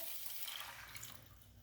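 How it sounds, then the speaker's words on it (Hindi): Water poured from a tap or jug into a bowl of masoor lentils that have soaked for a few hours, a steady close splashing pour with no talk. "अब इसमें डालना है पानी। यही वाला बॉल एक मैं पानी डालती हूँ।"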